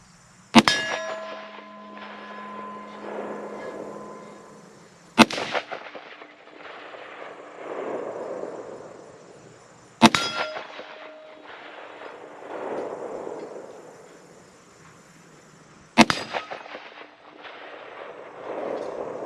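A French MAS 49/56 battle rifle in .308 fires at steel targets from fairly close range, four loud sharp shots spaced about five seconds apart, each followed by a ringing metallic clang and a decaying echo.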